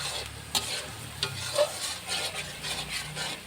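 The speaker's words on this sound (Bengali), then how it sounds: "এটা অনেক কষাতে হবে" Tomato masala for a silver carp dopiaza being stir-fried, with a low sizzle and several distinct scraping strokes of a spatula against the pan.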